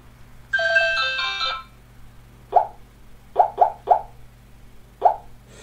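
A Chinese-made Nokia-style mobile phone plays a short melodic ringtone, then several soft plucked notes pop at uneven intervals over a low electrical hum.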